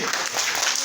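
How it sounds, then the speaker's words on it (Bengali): Children in a fourth-grade primary school classroom clap together in a brief, close burst of applause. "একটা হাতে তালি"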